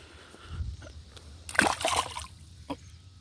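A bluegill is released back into the water, making one brief splash and slosh at close range in an otherwise quiet outdoor setting, followed by a small trickle.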